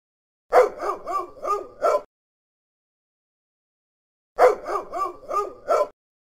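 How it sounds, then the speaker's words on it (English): A dog barks in the Vocal Zoo mobile game: two separate bursts of about four quick barks each, clear and close, split by a few seconds of silence. "Dog."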